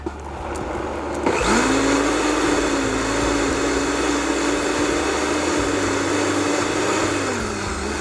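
A blender whirs loudly, mixing a yoghurt lassi with dried mango and a pinch of cumin; the motor kicks in after a second and spins steadily with a wavering whine for several seconds, with no voices.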